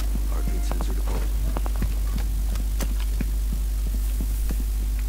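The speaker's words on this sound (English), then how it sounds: "Heartbeat sensor deployed." In Rainbow Six Siege, a heartbeat sensor gives a steady low throbbing pulse under a constant hum, with scattered game clicks and ticks over it and no one talking.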